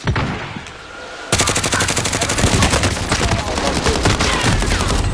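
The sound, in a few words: gunfire in the video game Call of Duty: Warzone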